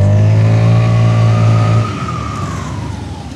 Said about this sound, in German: So, wir machen den ersten Bremstest jetzt mit der G350.